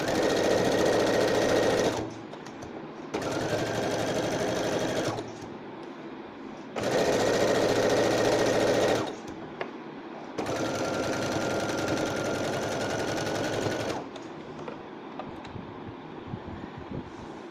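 A sewing machine top stitches a blouse in several loud, steady bursts of rapid whirring, each lasting a few seconds, with quieter pauses between runs as the fabric is repositioned.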